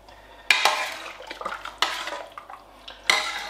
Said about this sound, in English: Let's just ladle it in.